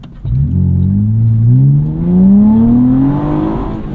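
A track-prepped Acura TL Type S accelerating hard, its engine note climbing steadily through the revs in one long, loud pull heard from inside the car, with no talking.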